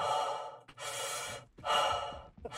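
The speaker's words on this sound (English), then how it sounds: "Stop breathing so loud in my ears" Loud, close breathing into a headset microphone during a Star Citizen game session: two long harsh breaths separated by brief pauses, with a short gasp at the end.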